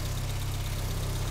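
A 1959 Triumph TR3A engine idles with a low, steady throb and a fine rattling pulse, close and continuous through a short stretch.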